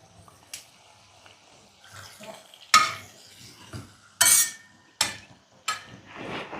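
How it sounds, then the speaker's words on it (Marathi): Anarsa frying in hot oil in a pan while the oil is stirred, with sharp scraping and clinking bursts of a utensil against the pan over a soft background sizzle, repeated several times, close by. "जर तेल कमी असेल ना तुमचं तर हे असं वरनं थोडंसं तेल सरकवायचं आणि तेल हलवलं की आपलं अनारसंसुद्धा खालच्या बाजूनं मोकळं होतं"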